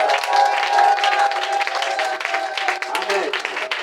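A church congregation applauding, a dense, sustained wash of clapping with voices cheering through it, loud and close.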